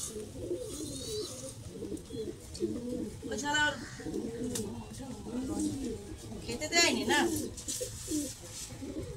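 Pigeons cooing in soft, steady rain, the low throaty calls repeating close by while people talk over them throughout.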